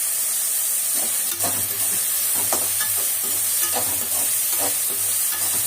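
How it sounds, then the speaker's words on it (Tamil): Onions and tomatoes sautéing with salt in a pan for a prawn curry, giving a steady close sizzle with repeated scraping stirs at an uneven rhythm and no talk. "இப்போ இது நல்லா வதங்கணும். வெங்காயம் தக்காளி வதங்க உப்பு போட்டுக்கலாம்."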